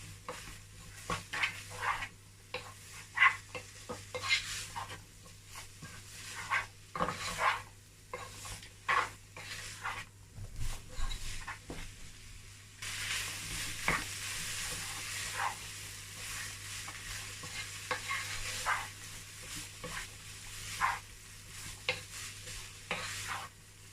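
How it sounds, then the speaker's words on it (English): A spoon stirs chicken pie filling seasoned with garlic powder and aromat in a pot, with repeated scraping strokes and clinks over a soft sizzle. The sizzle grows louder and hissier in the second half. "Going to mix all that together."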